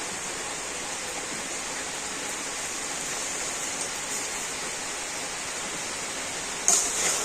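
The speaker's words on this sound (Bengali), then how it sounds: "জলটা না ভালো মতো কিন্তু ফুটে গিয়েছে" A bowl's worth of water at a full rolling boil in a pot gives a steady, dense bubbling rush that holds even throughout, swelling briefly louder just before the end.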